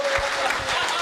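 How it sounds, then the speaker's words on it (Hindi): An audience at a comic poetry show claps in a brief burst of applause, dense and steady throughout. "एक हाथ खड़े करके एक बार तालियां बजाओ पूरा सदन"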